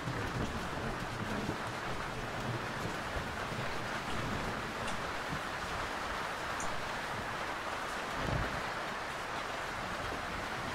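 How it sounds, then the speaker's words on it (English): A thinning storm heard in a sailing simulator game: a steady wash of rain and wind noise over the water, even and fairly quiet throughout, with a soft low rumble near the end. "The storm's thinning out."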